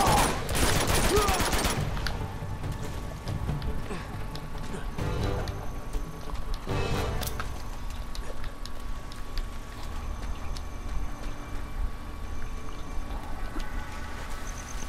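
Bursts of automatic AK rifle fire from the video game Uncharted 2 crackle loudly at the start, then sporadic shots and battle noise continue at lower level through the rest of the clip.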